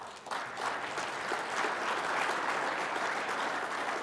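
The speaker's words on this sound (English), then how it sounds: "Maybe a round of applause here." An audience at an afternoon forum session on New York State farming and food production breaks into applause, rising quickly and holding as steady, dense clapping.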